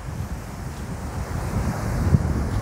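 Ocean surf at a rocky beach in Pondicherry rumbles low and steady, mixed with heavy wind buffeting the microphone, swelling slightly toward the end with one brief thump.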